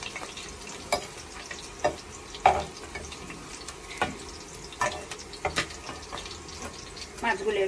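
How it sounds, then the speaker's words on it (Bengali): Small puti fish frying crisp in hot oil in a pan, a soft steady sizzle under occasional stirring clinks and scrapes, with intermittent knocks throughout. "মাছগুলো এরকম কড়া করে ভেজে নিলাম"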